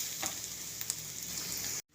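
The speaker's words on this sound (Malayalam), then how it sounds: "തേങ്ങ നമ്മൾ നല്ലതുപോലെ വറുത്തെടുത്തിട്ടുണ്ട്" Steady, close sizzling of coconut roasting in a hot pan, with a few light stirring scrapes, cutting off abruptly at the end.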